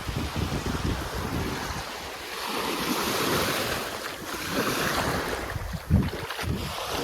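Ocean waves wash onto a beach in a broad hiss with rolling low surges, buffeted by wind noise across the microphone, no voices.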